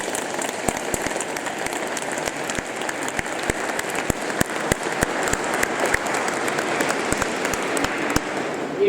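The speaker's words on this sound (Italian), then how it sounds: "un rinnovato grande applauso siano il migliore arrivederci" Sustained applause from a church congregation in Riva Ligure welcoming a new parish priest and bidding farewell to the outgoing one, a dense steady wash of many hands with sharp individual claps standing out, continuing evenly throughout.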